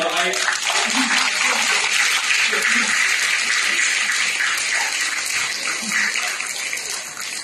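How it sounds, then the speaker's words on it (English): Crowd applause for the RSA members at a science festival curtain raiser session, a continuous hissing wash of clapping, loud and steady, tapering slightly at the end, with a voice briefly audible early on. "a round of applause to the RSA members"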